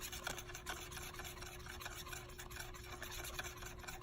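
A palette knife mixing dark red oil paint, a soft continuous scraping and smearing rub with faint rhythmic strokes, quiet and close with no voices.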